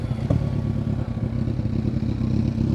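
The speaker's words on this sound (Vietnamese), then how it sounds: "thì đó là cái tiếng bô của con Z1000" A Kawasaki Z1000 motorcycle with a lightly modified exhaust revs nearby, a loud, continuous throbbing engine note with small rises and dips and no voices over it.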